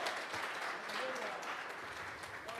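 Congregation clapping during a Sunday church service, a dense, continuous wash of applause from many hands, fairly distant and steady for a few seconds.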